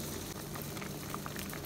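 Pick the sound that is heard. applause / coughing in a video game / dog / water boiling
water boiling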